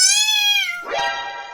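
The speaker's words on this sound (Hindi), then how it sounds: "एक खूंखार बिलौटा कुटकुट के पीछे लगा है" A fierce tomcat in a Hindi cartoon story gives a long, loud, clear meow that slides downward, followed by a second rougher, caterwauling yowl, close and with no talking.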